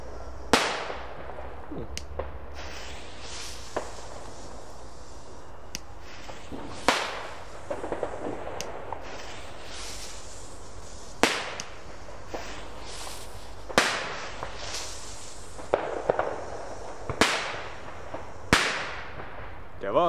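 Lesli China Böller B Schinken firecrackers go off outdoors on a street, a long irregular series of sharp, loud cracks and bangs, some near and some farther off, with short quiet gaps in between.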